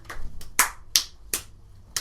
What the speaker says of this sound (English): There's supposed to be some rhythmic clapping of some sort.